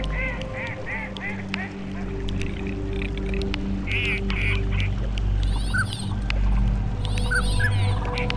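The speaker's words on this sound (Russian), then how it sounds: "На весенних разливах появляются первые птицы," Migratory birds return in spring to floodwaters in the Altyn Emel area, with ducks and geese calling over and over: honks and quacks, some close and some farther off, above a steady low hum of wind or water.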